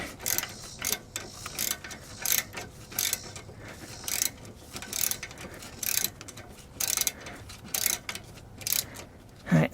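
A hand ratchet runs down brake caliper guide bolts on a GM Chevy or GMC truck during a rear disc brake caliper replacement, making rapid, loud bursts of clicking that repeat in a steady rhythm close by.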